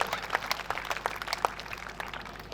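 An audience at a Hindi poetry gathering applauds a poet with a quick, dense patter of claps. The clapping sounds fairly faint and distant and has no voices over it.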